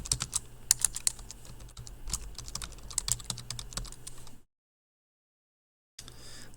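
Rapid clicking keystrokes on a computer keyboard, close and busy for about four seconds, then a silent gap before a little more typing resumes.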